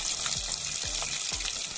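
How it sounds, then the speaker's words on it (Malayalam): Spicy chicken pieces frying crisp in oil in a pan, a loud, close, continuous sizzle with a few soft thuds from stirring or turning, no voices. "ചിക്കൻ അങ്ങോട്ട് മൊരിഞ്ഞ് മൊരിഞ്ഞ് അങ്ങോട്ട് വരുന്നുണ്ട് കേട്ടോ"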